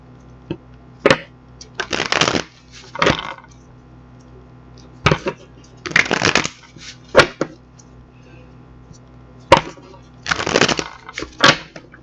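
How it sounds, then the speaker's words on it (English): Bursts of tarot cards being riffled and shuffled, several quick flurries separated by short pauses, close up with no talking. "we're going to get these cards shuffled up"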